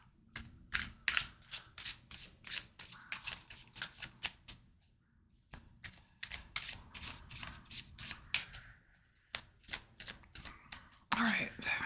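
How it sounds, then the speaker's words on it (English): Tarot cards are shuffled repeatedly in quick riffling bursts, close and crisp, with short pauses between shuffles. "Alright, you need an extra shuffle there."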